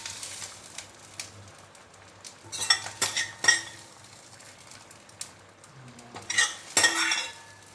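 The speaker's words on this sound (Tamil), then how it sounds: "இப்போ ஒரு 5 நிமிஷம் நம்ம இந்த பொங்கலில் எல்லாத்தையும் கலக்கணும்." A spoon scrapes and knocks against a pot as drumstick leaf pongal is stirred off the heat, giving irregular clinks and scraping bursts that come close and fairly loud, with no voices.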